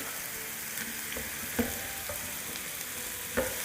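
Minced meat and onions frying in a pan while being turned over, a continuous close sizzle with a few soft stirring knocks.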